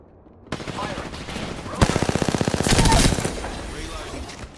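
Rapid automatic gunfire in the FUSE video game bursts out loud and close in a fast rattling string of shots, preceded by a single sharp report over a steady bed of game noise.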